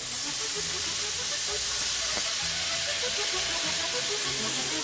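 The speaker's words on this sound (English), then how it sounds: "We've got scallops cooked with a little bit of seasoning and some fresh lemon and a little bit of herb just poaching away there with the butter" Scallops poaching in butter with fresh lemon, seasoning and herb in a pan, giving a constant loud, close sizzling hiss with faint bubbling underneath and no pauses.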